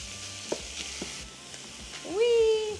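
Ground meat browns in a pan with a soft steady sizzle and a few spatula taps as it is broken up, ending in a brief high tonal squeak.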